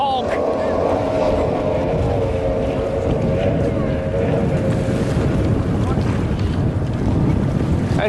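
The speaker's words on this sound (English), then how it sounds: "Team Maritimo is absolutely flying down towards turn 3 and 4 over the Warners Bay." Racing powerboat roaring across Warners Bay on Lake Macquarie, a steady loud engine drone with wind buffeting the microphone throughout, water rushing beneath, and a commentator's voice faintly mixed in.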